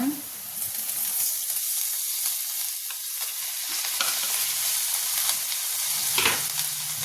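Amaranth greens frying in a pan with onions and turmeric, a steady close sizzle and hiss with stirring scrapes and a brief clink near the end.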